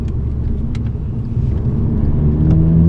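An MK6 Volkswagen GTI accelerates hard down a straightaway, a loud in-cabin engine drone rising steadily in pitch over low road rumble, with a few faint clicks.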